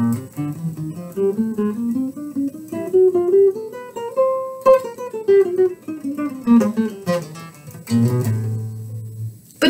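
An acoustic-sounding guitar runs a spider warm-up exercise up to speed: quick, evenly picked single notes climbing higher and then descending, ending on a strummed chord, played solo and close.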